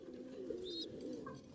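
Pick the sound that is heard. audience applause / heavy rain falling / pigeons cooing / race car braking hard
pigeons cooing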